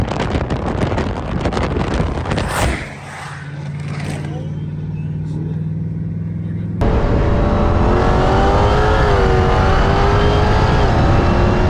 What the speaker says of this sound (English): The Hellcat versus a Tesla Plaid